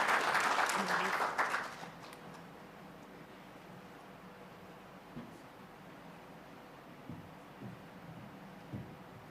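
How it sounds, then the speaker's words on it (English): Audience applause for panelists closing a digitalization symposium session, loud and dense for about the first two seconds, then quickly fading to scattered faint claps and room noise. "A big round of applause for the panelists."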